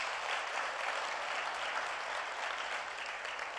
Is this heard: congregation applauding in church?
yes